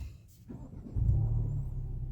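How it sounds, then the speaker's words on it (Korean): A Hyundai Sonata The Edge four-cylinder engine, already warmed up, starts with a quick crank and then settles into a steady, close low rumble of idle. "특유의 4기통 엔진의 사운드를 들을 수가 있고요"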